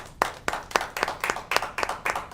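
Scattered hand claps in a brief round of applause from a small audience at a local evening show, with irregular bursts of clapping and no talking.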